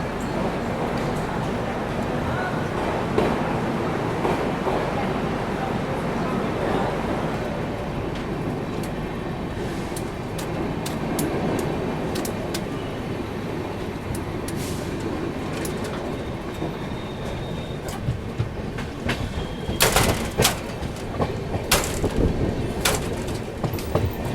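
Rajdhani Express train standing at Asansol Junction, with a steady rumble and station bustle throughout, scattered clanks and metallic clicks near the end, all fairly loud and close.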